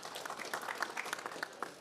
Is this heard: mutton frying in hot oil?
no